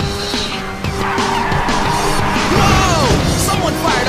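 Race cars in the video game Ridge Racer 6 roar off the start line together, with tires skidding and squealing over loud continuous engine noise that stays steady and close throughout.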